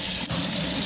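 Lukewarm water runs steadily from a kitchen tap into a bowl for dish-soap washing, a constant close hiss and splash with a brief dip partway through.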